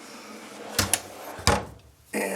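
A woodworking workbench drawer slid open or shut, with two quick sharp knocks, then a heavier thud and a scraping slide, then a short rough rumble, close and with no voices.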